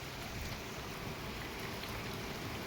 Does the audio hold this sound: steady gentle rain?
yes